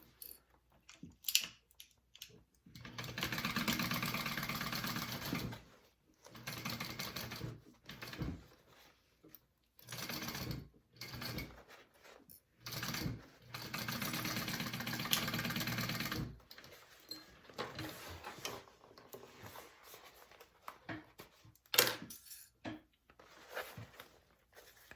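A sewing machine stitches through a backpack in several bursts of rapid, even whirring, each a few seconds long, separated by pauses with small handling clicks and quiet rustling.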